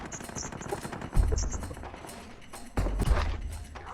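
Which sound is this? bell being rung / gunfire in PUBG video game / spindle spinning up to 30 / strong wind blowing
gunfire in PUBG video game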